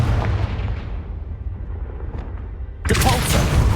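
A Confringo blasting spell explodes in Hogwarts Legacy, a loud sudden broadband burst near the end after a stretch of rumbling low background.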